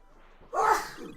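A single sharp sneeze bursts out close by, a quick airy snap after a brief quiet moment, with faint room noise around it.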